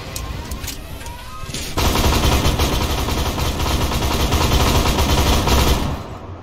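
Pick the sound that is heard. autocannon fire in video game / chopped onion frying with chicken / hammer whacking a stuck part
autocannon fire in video game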